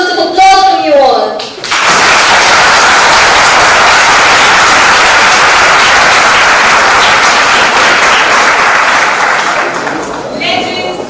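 A school event audience at a convent college in Nainital breaks into a long, loud, sustained outburst of applause right after a speaker's brief words, the dense clapping holding for several seconds before fading as a voice returns.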